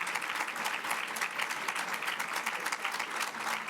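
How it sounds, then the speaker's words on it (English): An audience applauding finalists at a school district Teacher of the Year ceremony, sustained crisp clapping from a crowd in a hall, steady and unbroken. "a round of applause"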